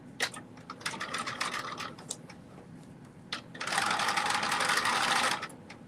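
A domestic sewing machine runs in short stitching bursts close to a garment seam, then settles into one longer, steady, loud whirring run near the end.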